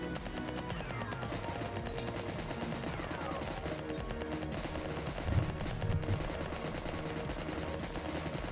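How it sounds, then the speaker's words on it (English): Machine gun in the video game Anstorm fires sustained rapid bursts, a dense continuous rattle with a heavier thump partway through and no talking. "this machine gun's not exactly the most precise weapon. Like, some of the bullets will fly off"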